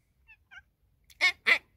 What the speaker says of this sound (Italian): Abbiamo il gatto Garfield, un nuovo arrivo.